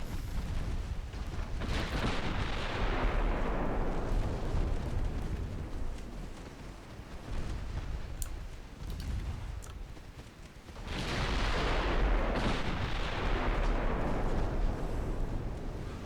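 Heavy naval 5-inch guns on a warship firing in a naval combat video game, loud booming blasts with long rumbling decay, two big bursts of fire separated by a quieter stretch.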